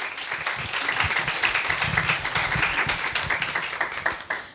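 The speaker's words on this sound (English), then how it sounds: "So a big round of applause also for Nora." An audience applauds steadily, a dense wash of many hands clapping at moderate loudness throughout.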